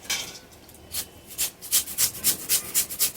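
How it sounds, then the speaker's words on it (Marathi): A potato being grated by hand for sabudana vada, with rough rasping strokes against the grater that start sparse and settle into a quick, even back-and-forth rhythm, close and fairly loud. "हा बटाटा त्याला छान किसून घ्यायचा आहे"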